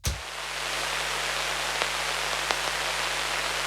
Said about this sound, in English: It sounds like radio noise or something.